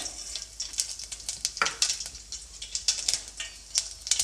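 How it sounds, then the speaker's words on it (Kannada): Mustard seeds and a little cumin crackling in heated oil for a okra sambar, a rapid irregular run of sharp pops and spits over a soft continuous sizzle, close and fairly loud, with no talking. "ಎಣ್ಣೆ ಕಾದಿದೆ ನಾನಿವಾಗ ಸಾಸಿವೆನ ಹಾಕ್ಕೊಳ್ತಾ ಇದ್ದೀನಿ"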